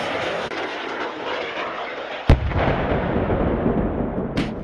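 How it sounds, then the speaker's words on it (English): A Javelin anti-tank missile launches with a sudden sharp crack that gives way to a loud, rushing roar, then a second sharp report follows, heard outdoors over a steady rumble with no talk. "The Javelin is a close-quarter anti-tank missile system."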